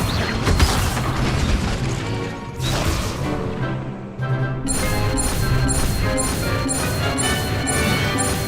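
Incendio fire spell in Hogwarts Legacy on PS5, heard as loud crashing, bursting impacts over dense game noise, with a brief dip before a steady run of crackling, pulsing effects.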